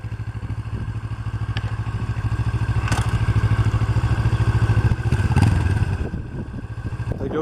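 A motorcycle engine runs rough and uneven, sputtering and popping from too little gas, loud and close with a rapid pulsing idle throughout and a brief surge near the end.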